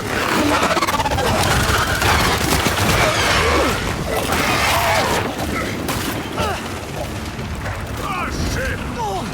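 Gunfire from the Gears 5 Hivebusters game: dense, loud bursts of shots and booming impacts running almost without pause, with mechanical clatter and a voice talking over the battle.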